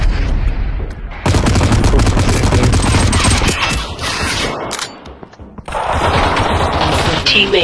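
Rapid bursts of video game gunfire rattle loudly and continuously, broken by a short lull before the shooting resumes. Voices may sit faintly beneath the shots.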